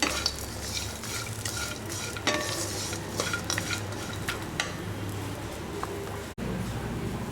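Curry leaves and coriander leaves fry in a pan with a constant crackling sizzle, while repeated metal scrapes and clinks of stirring sound close by; no speech.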